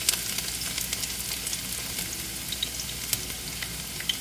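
Garlic sizzles in hot oil in a pan during a vermicelli noodle stir-fry, a steady crackling fry with scattered sharper pops, near and alone without talk.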